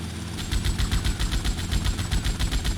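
Full-auto gunfire in the video game GTA Vice City: a loud, rapid, evenly spaced burst of automatic shots rattling continuously from start to finish with no voices.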